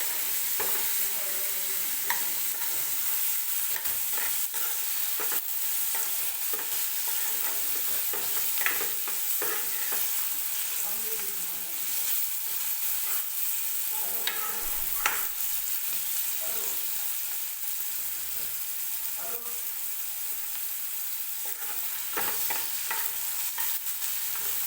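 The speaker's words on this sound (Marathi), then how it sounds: "टोमॅटो तेलामध्ये परतून घ्यायचा आहे सॉफ्ट होईपर्यंत" Chopped tomatoes sautéing in hot oil in a pan for a hotel-style garlic fenugreek curry, a steady close sizzle broken by repeated scraping stirs of a spoon, with no voices.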